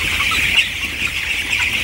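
Broiler chickens on a poultry farm cluck and chirp steadily as a dense, continuous chorus of many birds nearby, with no talking.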